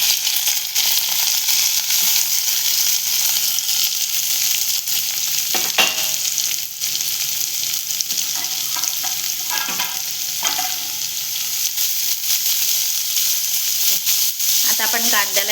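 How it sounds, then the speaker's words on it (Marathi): Onion and curry leaves with garlic fry in a pan for tonḍlī and val bhaji, a steady loud sizzle with occasional stirring scrapes and clinks throughout. "आता कांदा टाकतो आपण. कांद्याबरोबर हे कढीपत्ता पण टाकतो."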